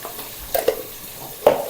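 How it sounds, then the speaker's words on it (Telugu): Biryani masala frying in oil in a pot, a soft continuous sizzle broken by a few brief spoon scrapes and knocks against the pan, heard close with no talking. "మసాలా వేసినాక బాగా వేయించాలి."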